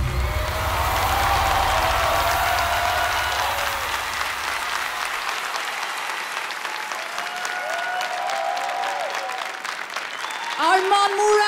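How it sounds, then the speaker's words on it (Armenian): A studio audience bursts into loud, sustained applause and cheering after a performance on an Armenian TV talent competition, the clapping dense and steady throughout, with music fading under it and a voice speaking near the end. "Բարձր ծափարենք փայլուն ելույթի համար"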